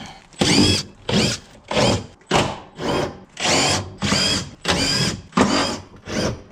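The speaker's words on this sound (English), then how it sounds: "I just gotta undo a whole bunch of these bolts all the way around it." A power tool, likely an impact driver or drill, backs out bolts one after another around a car's underbody plate while a sway bar is fitted. Nine loud, close bursts of about half a second each are separated by brief pauses, with no talk.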